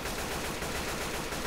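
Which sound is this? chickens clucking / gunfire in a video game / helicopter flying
gunfire in a video game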